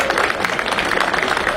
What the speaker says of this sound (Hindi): जोरदार तालियों से हमारे मुख्यमंत्री का स्वागत करें।